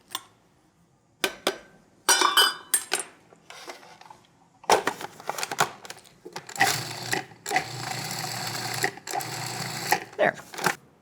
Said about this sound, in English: So all these dry ingredients can just be pulsed together, which is the same thing that sifting does.